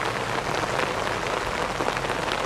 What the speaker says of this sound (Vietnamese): Mưa hoài không có tạnh luôn các bạn.